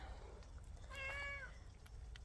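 A cat gives a single short meow outdoors, fairly faint and a little distant, over a low background rumble with no talking.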